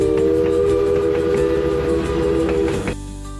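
A train on the Strasburg Railroad, one of America's oldest continuously operating lines, gives a loud, sustained whistle-like tone over steady rumbling that cuts off sharply near the end, leaving a low hum.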